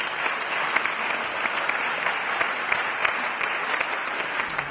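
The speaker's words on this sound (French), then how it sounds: "On applaudit Jésus!" Steady applause from a congregation at a Sunday church service, dense continuous clapping at an even level throughout with no voices standing out.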